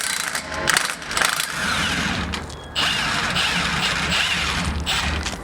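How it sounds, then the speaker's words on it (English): A ratchet with a 15mm socket works on a rear shock bolt of a Ford Rager FXR off-road kit, giving a close rapid clicking with metallic mechanical rattles throughout. "To remove the rear shocks, all you need to do is get yourself a 15mm socket to remove the lower and the top bolt."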